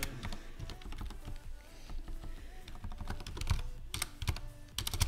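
Fast typing on a computer keyboard while writing Python code, a dense stream of close key clicks with brief pauses and a few louder clacks, no talk over it.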